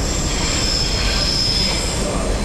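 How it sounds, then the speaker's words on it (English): A train passes through a station platform, a loud continuous rumble of wheels with a high, sustained squeal of wheels on rail throughout. "Train that I'm not on."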